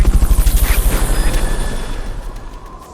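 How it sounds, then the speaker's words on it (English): Rotor chop of a helicopter in the Metal Gear Solid: Peace Walker video game, a rapid rhythmic thumping that is loud at first and gradually fades as the craft pulls away, with no talk over it. "Fulton recovery subject confirmed onboard helicopter."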